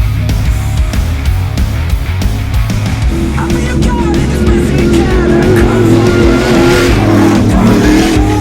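An HM Elite prerunner truck tears across off-road terrain at speed, its engine roaring loud and steady with rising revs and tire noise throughout.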